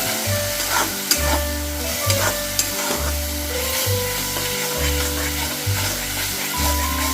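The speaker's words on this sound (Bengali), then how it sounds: "ভালোভাবে আমি কষিয়ে নিচ্ছি" Katla fish sautéing in a pan for doi katla, wedding-style, with a loud steady sizzle and repeated rhythmic stirring scrapes of a spatula, close up and with no talking.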